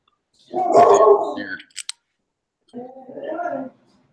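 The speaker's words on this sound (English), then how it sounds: "otherwise you're gonna listen to my dog howling" A dog gives a low, gargling howl-like vocalization, fairly close, then a second softer drawn-out one after a short pause and two brief clicks.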